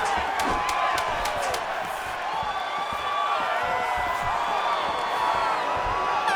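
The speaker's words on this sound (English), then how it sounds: "there's the horn, an appreciative crowd responding in kind" Crowd noise from EA Sports UFC 5 swells around the end of a round, a steady cheering roar with whoops and scattered claps, mixed with a game horn and tonal arena sounds.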